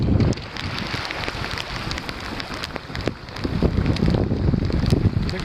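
Steady rain and gusting wind on a small Drascombe Coaster sailing boat under a reefed mainsail in Scottish waters, a continuous close hiss of drops and wind buffeting the microphone, with no talking.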